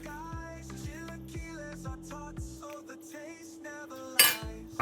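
A spoon scoops beans and pork chile verde meat into a dish, with several light metallic clinks and scrapes against the bowl over soft background music, ending in a sharper clatter.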